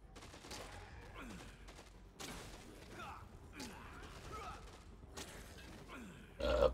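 A gun fires in the video game Dead Rising 2 as a few separate bursts of loud shots spaced a second or more apart, with voices in the background and a mechanical clunk at the end.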